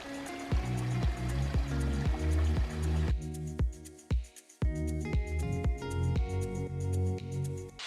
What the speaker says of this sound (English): leading to a waterfall